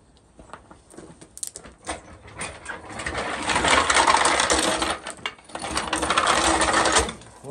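Metallic clicking and ratcheting from a floor jack being pumped under a 2008 Nissan Pathfinder R51, starting as sparse clanks and building into two dense, loud bursts of grinding mechanical rattle.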